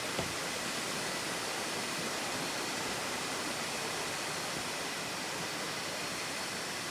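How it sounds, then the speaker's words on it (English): Night creek flowing beneath a bridge: a steady, broad wash of rushing water, even and unbroken, heard from above at moderate distance. "you can hear that creek down below"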